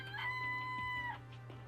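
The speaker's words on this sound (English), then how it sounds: "This place even has chickens, huh?" Chickens in the video game Danganronpa: Trigger Happy Havoc, a single short rooster-like crow with a drawn-out tonal call over a steady low game background hum, clear and close.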